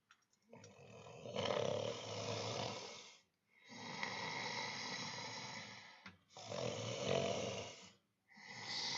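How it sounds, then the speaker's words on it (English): Deep, rasping snores repeat in long slow breaths, each rumbling for a couple of seconds before a short pause, fairly close and loud. "Sounds like snoring."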